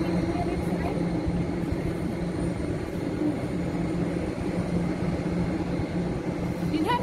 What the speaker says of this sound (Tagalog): madaming eroplano sa likod